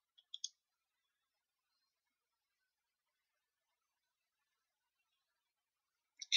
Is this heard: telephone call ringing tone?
no